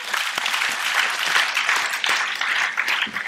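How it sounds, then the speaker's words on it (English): Audience applauding a speaker at a corporate talk, a continuous, loud patter of many hands clapping for a few seconds with no speech over it. "I think clap for him once."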